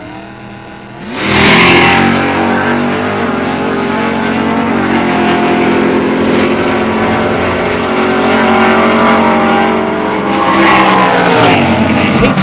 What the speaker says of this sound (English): Bob Leiden's yellow 1970 Dodge Dart against Mark Tate in the outside lane. Tate drives a 64 Corvette